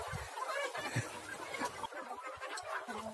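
Country chickens cluck at a poultry farm housing about 1,700 birds, soft, scattered calls rising and falling at moderate distance against a quiet background.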